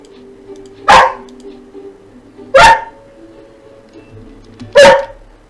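A dog gives three sharp, separate barks, evenly spaced about two seconds apart, each loud and clear over a quiet indoor hum.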